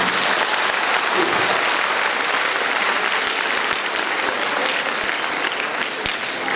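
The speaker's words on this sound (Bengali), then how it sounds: "তোমরা যারা আজকের ছাত্রছাত্রী তারা সবাই এদের হাততালি দিয়ে সম্বর্ধিত করো" Students at a school silver jubilee seminar applaud to welcome Habiba Khatun and Selim Akhtar onto the stage, with loud, steady clapping from a large audience filling the hall throughout.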